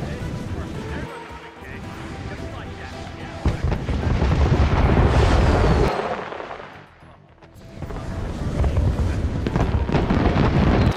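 Fireworks in the video game Hitman 2 pop and crackle in a continuous, dense barrage that swells and dips, while voices talk over the bursts.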